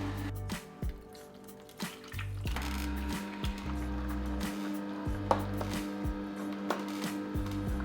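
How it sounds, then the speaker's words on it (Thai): A knife trimming the dark end off a whole lime on a cutting board, with a series of soft, close chops and taps at an uneven pace, and no talk. "แต่ผมตัดส่วนที่มัน ดำๆออกนิดนึงนะ"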